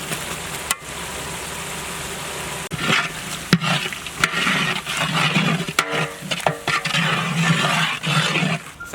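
Red chili powder, salt and turmeric cook in a pan for chicken biryani, sizzling loudly under irregular stirring and scraping strokes of a spoon against the pan.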